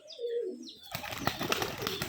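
A white pigeon in an acrobatic display flight, its wings giving a sudden burst of close, rapid flapping after a few soft coos and chirps.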